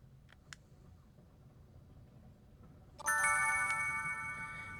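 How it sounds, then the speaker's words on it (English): Bright, ringing logo chimes from the Pokémon XD GameCube game start-up, a sudden shimmering chord that sustains and slowly fades, preceded by a couple of faint clicks over a quiet hum. "just like the chimes of these logos are also just genuinely nostalgic for me"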